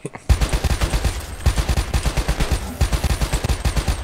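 Rapid light machine gun fire from a Call of Duty: Black Ops III co-op match on Veteran difficulty, a steady rhythmic stream of loud, close shots running almost continuously with only brief gaps.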